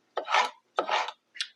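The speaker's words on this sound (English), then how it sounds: "For the red peppers, we're going to want a pretty fine dice" A kitchen knife finely dicing red peppers on a cutting board: three close, rasping strokes, the first two long and scraping, the last short, with brief silences between.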